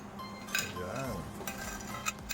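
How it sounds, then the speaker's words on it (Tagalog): A spoon scrapes and clinks against a pan while tofu and pork are stirred together, soft irregular taps close by and fairly quiet. "Halo-haloin na natin"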